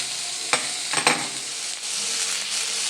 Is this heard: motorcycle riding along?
no